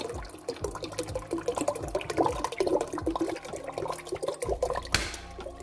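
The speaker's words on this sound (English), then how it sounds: "Going to pour it here now." Water pours and splashes steadily into a pot, about four liters for brewing tea, a close, continuous gurgling stream with a brief louder splash near the end.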